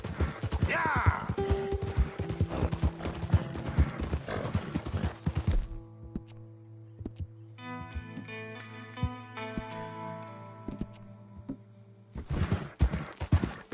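A horse clip-clops at a gallop in a PlayStation 4 video game, hooves pounding with a neigh early on, then fading under music before the hoofbeats return.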